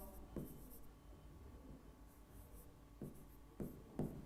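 Chalk or pen scratching out a vector algebra formula on a board or page, with a few short scraping strokes standing out over a low steady room hum.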